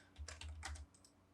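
Quick burst of keystrokes on a computer keyboard while entering values in AutoCAD, about half a dozen close, faint clicks in rapid succession.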